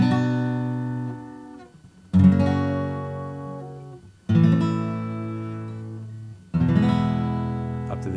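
An acoustic guitar strums a chord progression, four loud chord strokes each left ringing and fading for about two seconds before the next change, played up close with no voice.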